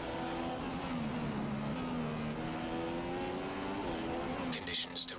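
A Formula One car in the racing game F1 2015 accelerates steadily, its engine tone climbing through the gears in a continuous, fairly loud drone with brief shift dips, ending in a few sharper bursts.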